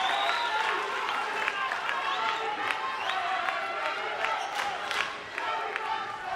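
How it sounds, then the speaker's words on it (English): Crowd at the South African Open table tennis tournament applauding and cheering, a dense spread of clapping with scattered whoops, steady across the whole stretch with a brief dip near the end. "Tell you what, this crowd is loud."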